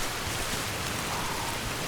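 Steady rain pours down in the video game Red Dead Redemption 2, a dense, even hiss with no breaks and no voices over it.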